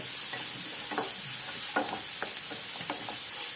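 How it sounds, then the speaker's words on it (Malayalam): Onions sauté in a pan on the stove with a continuous hissing sizzle, broken by repeated scraping strokes of a spatula stirring them. "ഈ അടുപ്പത്ത് സവോള ഇട്ട് വെച്ചേക്കുന്നു വഴറ്റി"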